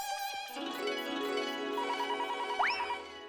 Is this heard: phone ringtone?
yes